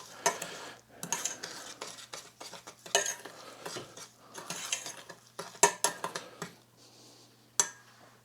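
Half a cup of brown sugar is stirred into butter for a ham glaze, with a spoon scraping and clinking against the pan in irregular bursts over a faint hum.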